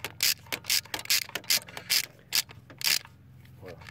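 A hand ratchet tightens a diesel glow plug in a Renault engine, giving about eight sharp, evenly spaced clicking bursts up close before the clicks stop.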